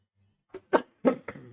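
A short run of about four coughs, close and fairly quiet, after a brief pause of near silence.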